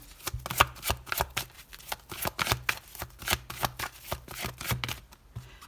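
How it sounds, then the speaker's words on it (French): Tarot cards are shuffled and laid out close by in a rapid, rhythmic series of papery riffles and slaps that continues steadily with no talking. "on va mettre une deuxième carte"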